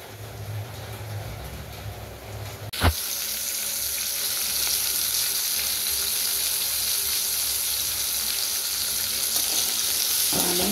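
Onions and dried chillies fry in coconut oil with a steady sizzle that swells after a sharp clatter near the start. Light stirring and scraping run throughout at moderate loudness.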